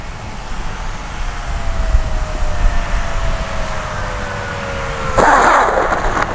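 An E-flite EC-1500 twin-engine RC plane comes in to land on grass, its motors a steady drone with a slowly falling whine, then a sudden rougher burst of noise as it reaches the ground.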